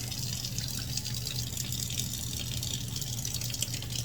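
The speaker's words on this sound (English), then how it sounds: "I'm going to get some good warm water." Warm tap water runs from a hose spigot, a steady rushing, gushing stream with faint rattling, constant and fairly close throughout.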